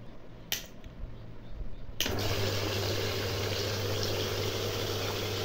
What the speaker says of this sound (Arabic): طبعا ضخ المية زي ما انت شايف، بس هي للأسف شديدة جدا